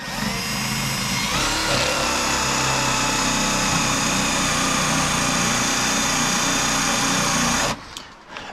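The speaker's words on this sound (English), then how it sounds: "I'm gonna drill a quick hole right into the back side of this." A power drill whines loudly and continuously for several seconds while drilling a hole in a Mazda RX-8 roll bar with a dull bit, then cuts off abruptly near the end, leaving quieter rustling.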